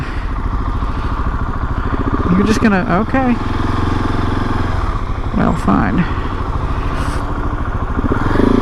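A KTM 690 SMC R single-cylinder motorcycle engine drones steadily while riding, with a couple of rising rev sweeps during shifts, loud and close under a rider's voice speaking over it.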